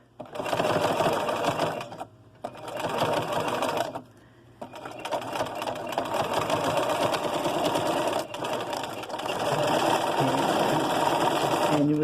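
A sewing machine stitches pleats in a fabric mask, running in long continuous bursts with two short pauses, a rapid even mechanical chatter close to the listener and no voices.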